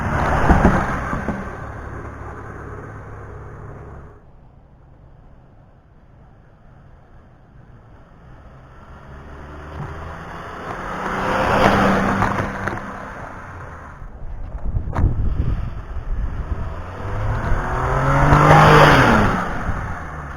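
A 2013 Toyota Sienna van with its muffler deleted revs hard toward 6,000 RPM, the raw exhaust roaring and rising in repeated surges close by, with a quieter lull between bursts.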